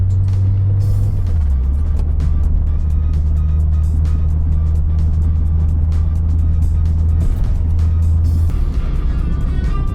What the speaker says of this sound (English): How about we take this thing for a test drive and you can see how terrible it really is